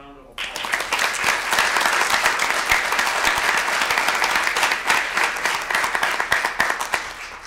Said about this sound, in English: Can we give her a second round of applause?